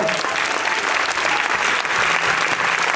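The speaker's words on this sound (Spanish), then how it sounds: "vou pedir un forte aplauso para os profes, colaboradores de comedor" Strong applause from an audience at a 2023 school graduation at CEIP Pl Ría de Vigo, dense continuous clapping at full volume throughout, with a few voices faintly audible under it.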